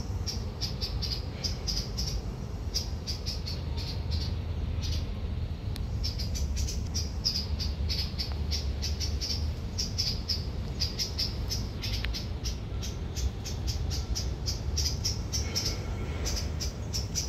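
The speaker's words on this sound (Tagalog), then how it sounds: "Ang ibon ay kumakanta." Birds sing with repeated bright chirps and short phrases in a forest in the middle of a Middle Eastern city, over a steady bed of insect buzzing and no voices.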